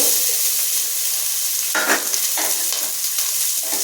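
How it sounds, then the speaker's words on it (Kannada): Sliced onion and green chillies hit hot oil in a kadai, setting off a loud, steady sizzle with a few sharper crackles and stirring scrapes as they go in, close and without talk. "ಇವಾಗ ನಾನು ಈರುಳ್ಳಿನೂ ಹಸಿಮೆಣ್ಸಿನ್ಕಾಯಿ ಹಾಕ್ತಾ ಇದ್ದೀನಿ"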